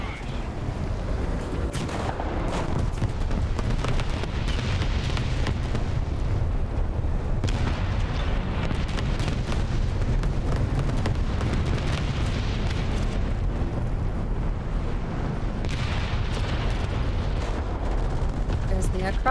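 Artillery barrage in the video game War Thunder, a sustained rumbling stream of heavy booms and blasts rolling on for nearly twenty seconds, with occasional sharper cracks standing out.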